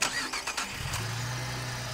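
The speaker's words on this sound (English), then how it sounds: "Let's start this car and move that elephant" A car engine in the game Darkside Detective 2 cranks with a few sputtering turns, then catches and settles into a steady, loud hum.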